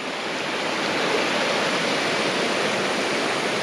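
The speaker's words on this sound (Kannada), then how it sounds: "ನೀರಿನ ಸೌಂಡೇ ಮಜಾ ಇದೆ." A waterfall near Dharmasthala roars steadily, a loud, continuous broadband rush of water heard up close with no voices over it.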